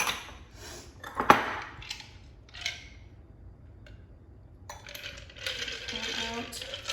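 Ice rattles and clinks in a mixing glass as a martini is stirred, heard as scattered sharp glassy clicks and a louder knock. A steadier swirling clatter of cubes follows near the end, close and moderately quiet.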